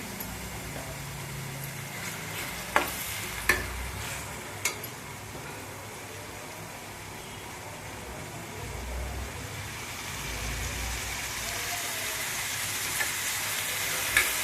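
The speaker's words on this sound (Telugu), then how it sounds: "ఉల్లిపాయలు బాగా మగ్గారండి" Onions with salt fry in a pan for a raw prawn and gongura curry, giving a steady broadband sizzle with a few sharp clicks of stirring near the start.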